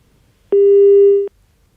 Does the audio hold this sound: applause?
no